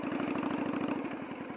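A motorcycle engine idles after braking to a stop, a steady close low throb with a regular pulsing rhythm that holds evenly throughout.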